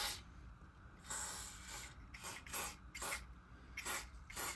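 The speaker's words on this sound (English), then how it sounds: "I'm going to be using a silicone release spray" Several short hissing bursts from an aerosol can of silicone release spray, spaced irregularly, close and fairly quiet, with no talking.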